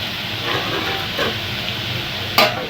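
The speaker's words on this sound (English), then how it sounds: "Let's give our tomato some time to cook." Tomato cooking in a pot for a beef and cabbage stew gives a steady, soft sizzle and bubble up close, with a sharp clink of a utensil near the end.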